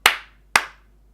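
Two sharp single hand claps, close and crisp, about half a second apart, each ringing briefly in a quiet room before fading to silence.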